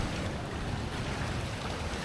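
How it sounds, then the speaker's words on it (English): Ocean waves wash against a rock ledge at a natural pool in Noosa, Australia, a dense, loud, continuous roar of surf and churning water mixed with wind. "This ledge over here stops the waves causing too much destruction."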